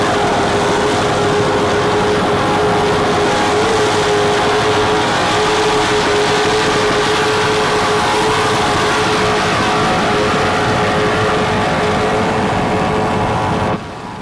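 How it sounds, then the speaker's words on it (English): Loud, steady roar of high-powered offshore racing boat engines running flat out at the 1992 National Championships in New York, a constant droning whine that holds for the whole stretch with no voices. "These motors are really doing the job."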